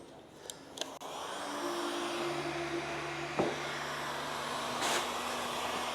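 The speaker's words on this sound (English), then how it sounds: "So just use a heat gun." A heat gun blows steadily to fuse two pieces together into a 90-degree joint, producing a continuous, fairly loud whooshing roar with a couple of small clicks and knocks near the start.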